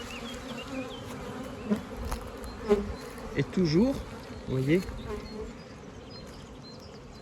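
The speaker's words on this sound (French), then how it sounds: "je vais prélever tout simplement des abeilles, des cadres d'abeilles que je vais mettre dans la ruchette" Honeybees hum in a steady, dense buzz close by at a hive in Sarralbe, France, as frames of bees are moved to a small nucleus hive, while someone speaks briefly in French over it.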